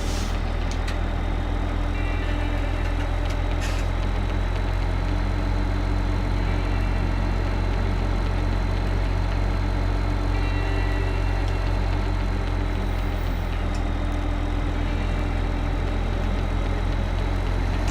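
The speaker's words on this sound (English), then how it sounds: "let's jump back on in the tractor." A tractor engine runs steadily from inside the cab while driving on a road back to a farm, a loud constant low rumble with a droning hum and no pauses throughout.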